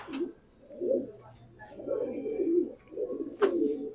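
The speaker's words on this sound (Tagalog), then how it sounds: "Maganda pala ng ibon dito ni Idol" Pigeons coo in soft, low, repeated rolling calls, close by, in a steady rhythm with a few faint clicks in between.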